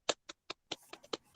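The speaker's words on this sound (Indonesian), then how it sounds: "Tepuk tangan yang dulu." Eight or so sharp, distinct hand claps ring out close and fairly quiet at a coaching practice session, spaced evenly at first and then coming a little faster, with no cheering.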